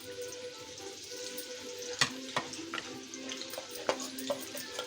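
Salted potatoes sizzle steadily in a pan while a spatula stirs them, with sharp scrapes and knocks over the constant frying hiss.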